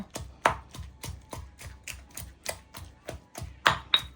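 A pestle pounds chilli, belacan and other sambal ingredients in a stone mortar, with a steady rhythm of close, sharp thuds about three per second and no talk.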